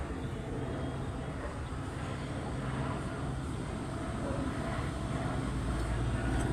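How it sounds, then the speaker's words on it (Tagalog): An LAPD police helicopter flying overhead outdoors, heard as a steady, low rumbling drone that stays faint and even throughout, with no distinct rotor beat standing out. "Police helicopter."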